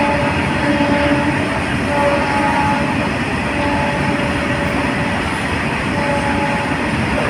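A freight train hauled by twin WAG 5 locomotives passes close by at speed through a railway junction, a loud continuous roar and rumble of wagons that holds steady throughout. No talking.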